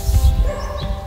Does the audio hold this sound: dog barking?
yes